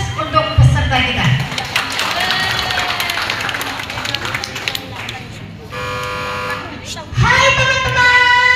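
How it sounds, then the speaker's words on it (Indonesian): An audience at a school storytelling contest applauds a participant, with clapping and cheering in a large hall mixed with loud voices and bursts of music or horn-like tones. "Aplaus untuk peserta kita."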